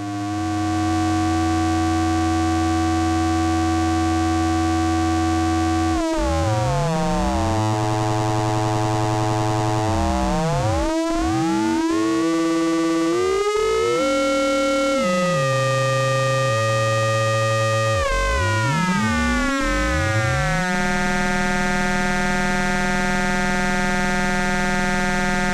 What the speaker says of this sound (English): Changing the frequency and wave shape of oscillator A has a dramatic effect on the timbre of the sound.